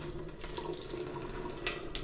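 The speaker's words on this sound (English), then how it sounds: "So I'm gonna just drain this pasta off now." Cooked pasta water pours out of a pot into a sink in a steady, close rush of running, splashing water with no voices.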